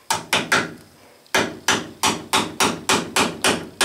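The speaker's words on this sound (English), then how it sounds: "I love this copper hammer." A copper hammer strikes a metal workshop part in a machinist's shop, landing ten sharp, ringing blows in a steady rhythm with one short pause after the first three, loud and close with no talk.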